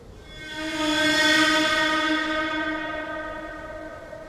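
A train horn sounds a sustained multi-tone chord that swells, holds and slowly fades, loud and fairly near over low rumble, with no talking.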